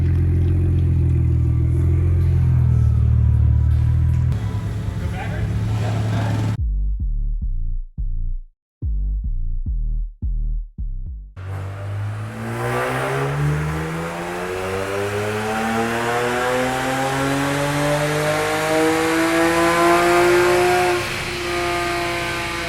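A tuned BMW 335i with catless exhaust, bolt-on parts and meth injection revs hard on a dyno, a loud sustained engine roar that cuts to sputtering bursts, then climbs steadily in pitch through a long full-throttle pull.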